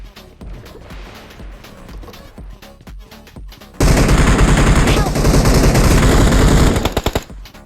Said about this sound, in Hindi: यहाँ पे सी अपार्टमेंट में गोली चल रही होती है